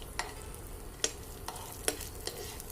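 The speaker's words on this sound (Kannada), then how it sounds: "ಬೆಳ್ಳುಳ್ಳಿ ಮತ್ತು ಹಸಿರು ಮೆಣಸಿನಕಾಯಿ ಹಾಕೋತಾ ಇದ್ದೀನಿ. ನೀಟಾಗಿ ಫ್ರೈ ಮಾಡ್ಕೊಳ್ಳೋಣ." Garlic and green chillies fry quietly in oil, giving a soft, low sizzle. It is broken by four or five crisp spatula taps against the pan at irregular intervals.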